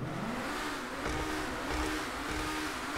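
Progen Emerus supercar engine in GTA Online revving steadily with a sustained mid-pitched roar, loud and continuous throughout, no talk over it.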